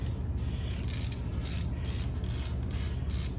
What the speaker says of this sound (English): take off this set screw retaining bolt on the front of the rotor